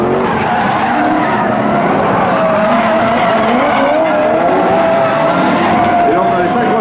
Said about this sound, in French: Et là on a les 5 voitures en piste maintenant.